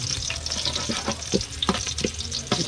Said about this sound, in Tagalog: Gigisa na po natin yung bawang.